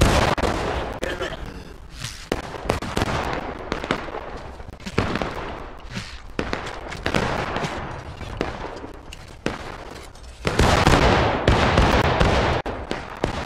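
Musket volleys from massed line infantry in the War of Rights game, heard as repeated loud cracks and ragged bursts at close and middle range, mixed with shouting voices and a busy battlefield din.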